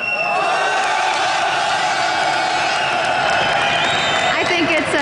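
Live crowd at a League of Legends esports match in Europe cheering, whooping and applauding in a dense, sustained roar, with some shouting rising near the end.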